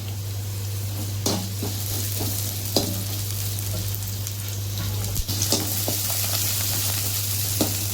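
Onions frying in a pan for a spicy liver gravy, a steady sizzle under a low hum, broken by sharp clacks and scrapes of a stirring spoon.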